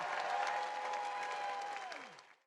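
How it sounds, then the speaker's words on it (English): A crowd at a political rally applauds and cheers for healthcare, steady loud clapping mixed with shouts that fades out at the end. "behind Bernie Sanders, standing up and cheering for him"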